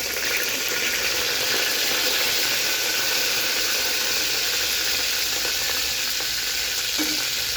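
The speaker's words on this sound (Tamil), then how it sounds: "இப்போ நம்ம எண்ணெய், கடுகு போட்டுருக்கிறேன்." Mustard seeds crackle and sizzle in hot oil for Tamil manathakkali keerai stem rasam, a steady, close, dense frying hiss with faint popping throughout and no talking.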